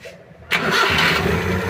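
A car engine cranks and catches after a timing belt replacement, then settles into a steady, loud idle close by.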